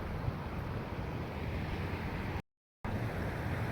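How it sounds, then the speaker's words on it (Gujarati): Loud, steady rushing water roars without pause as a powerful flow pours through a broken check dam, broken by one brief silent gap, with no voices. "આ પાણીનો પ્રચંડ પ્રવાહ છે ને ભાઈ આને તોડી નાખ્યું છે"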